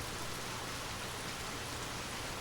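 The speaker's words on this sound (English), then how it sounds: "the only sound being the relentless rain" Steady, relentless rain falls at night, a dense, even hiss of drops on surfaces that stays constant and fairly quiet throughout, with no voices.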